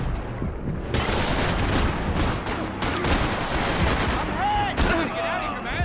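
Dense gunfire in Max Payne 3, a continuous barrage of overlapping shots and heavy booms, loud and steady throughout, with a sharp impact near the end.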